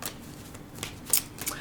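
A deck of tarot cards is shuffled by hand in a soft, steady riffle, with a few crisper snaps of the cards near the end.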